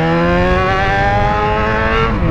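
A loud motorcycle engine drones steadily in traffic, its revving pitch holding high and even throughout, close and continuous with no talk over it.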